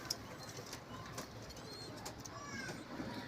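Homing pigeons coo faintly in a loft, soft and low under a steady background hiss.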